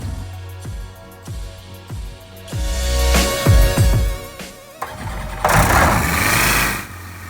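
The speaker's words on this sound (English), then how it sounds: "First engine run." A Van's RV-12iS light aircraft engine cranks with a few rhythmic pulses on its first run, then catches and runs loudly, roaring and revving up close with steady broadband noise.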